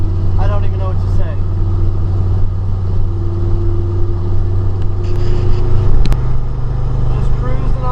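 A 1972 Chevy C10 pickup with a 454 big block V8 and EFI cruises on the highway, its low steady engine drone and road rumble constant throughout, with someone talking over it.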